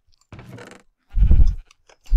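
Sheep in the Minecraft video game giving a few short bleats, two separate calls with a pause between them, fairly close and alone.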